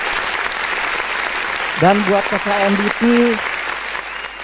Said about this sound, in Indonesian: Tepuk tangan buat kita semua ya